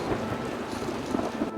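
A rain shower pours down steadily at an outdoor event, dense hissing rainfall with a low rumble of thunder beneath it, loud and continuous with no voices.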